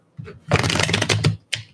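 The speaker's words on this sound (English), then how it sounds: "Let's do the last shuffle for Cancer" A short, close riffle of tarot cards being shuffled, one quick flurry of papery flicks followed by a brief final snap.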